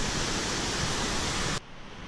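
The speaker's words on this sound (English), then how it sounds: "I'm just gonna cross the creek." Creek water flowing along a state park trail in Illinois, a loud, close, broadband rush that drops sharply in level near the end and continues more softly.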